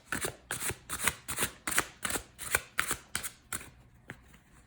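Tarot cards being shuffled in quick riffling bursts, about ten crisp flutters in steady rhythm, close and clear with no talking.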